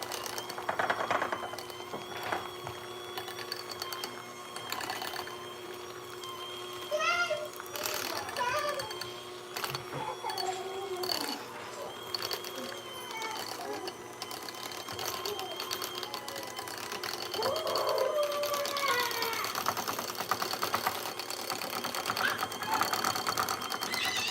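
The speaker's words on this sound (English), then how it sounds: "if you don't want to hear the mixer, just close your ears a minute" An electric mixer runs in a home kitchen while cheese dip is being made, giving a continuous whirring, rattling drone with clattering bursts. Someone talks quietly under the motor noise throughout.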